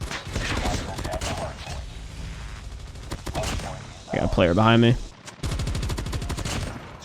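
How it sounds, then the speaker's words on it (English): Rapid bursts of video game gunfire crackle in quick, repeated volleys, with someone talking briefly over the shooting. "I'm hearing gunshots."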